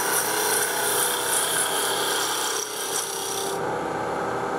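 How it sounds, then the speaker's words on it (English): Spindle roughing gouge cutting a spinning wood blank on a lathe while turning an icicle ornament: a loud, steady, close-up rasping hiss that runs unbroken and eases slightly near the end. "You put the bevel on the wood, bring up the handle, and move it down across the"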